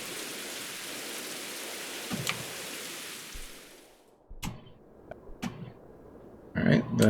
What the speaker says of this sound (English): So I'm going to run into the house to get out of the rain